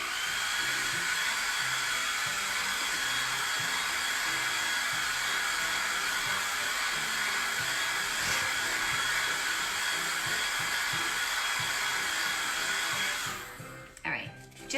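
A hair dryer runs continuously at close range, drying chalk paste on a silk screen, a steady loud whirring blow that holds for most of the stretch before cutting off near the end with a few handling knocks.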